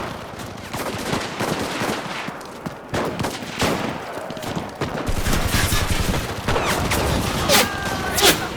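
Sustained gunfire fills a battle in the video game Enlisted, set in the Pacific War at Munda Point's Bibolo Hill, with rapid rifle and machine-gun bursts, scattered single shots and occasional heavier blasts, dense and loud throughout.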